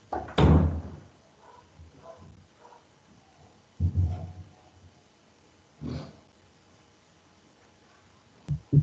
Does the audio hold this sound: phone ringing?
no